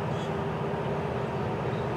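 FEC freight unit train passing, a steady, dense rumble and roar of rolling stock heard continuously and fairly close, with no pauses.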